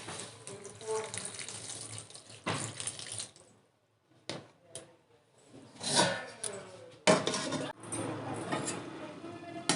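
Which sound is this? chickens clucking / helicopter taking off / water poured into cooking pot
water poured into cooking pot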